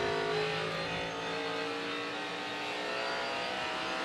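A NASCAR Cup Series race car engine roars continuously at Phoenix Raceway, a loud sustained high-revving drone with steady pitch filling the whole stretch.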